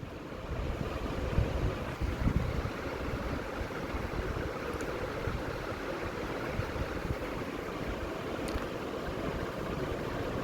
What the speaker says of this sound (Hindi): प्याज शामिल करने के बाद अब हम इसे ब्राउन होने तक फ्राई करेंगे।